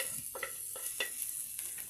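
Onion and garlic sautéing in a pan for a simple ampalaya stir-fry, a soft steady sizzle with a few light scraping stirs spaced through, quiet and close with no talking.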